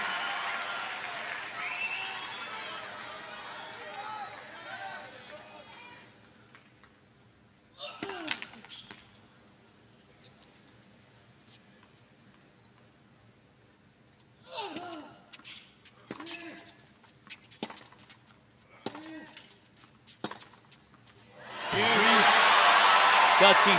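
A US Open tennis crowd at a Dan Evans versus Stan Wawrinka five-set match swells in cheers and applause in several bursts, quiet lulls between, ending in a loud sustained roar.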